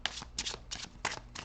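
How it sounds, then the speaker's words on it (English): A deck of tarot cards is shuffled by hand in five quick, crisp riffling bursts, close and clear in a quiet room. "I'm going to shuffle"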